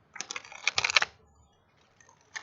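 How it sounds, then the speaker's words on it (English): A quick, crisp riffle of cards fluttering together for about a second, close up, followed by a couple of faint taps. "A perfect ruffle shuffle."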